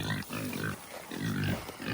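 Farm pigs grunt steadily close by, giving low, rough snorts in a few overlapping bursts with no talking.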